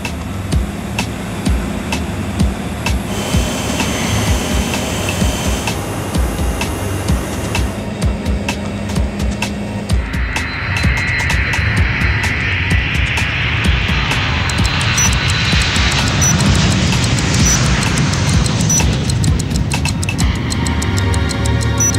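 An airplane at Orly airport in Paris gives a steady, loud engine roar that swells and brightens through the second half, with no one speaking.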